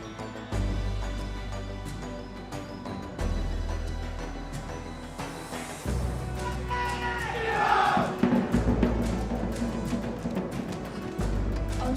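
Arena crowd at an MPL Malaysia Season 11 esports match, Stadium Juara, roaring and cheering continuously for about twelve seconds, loud and sustained with surging peaks, alongside a pounding music bed.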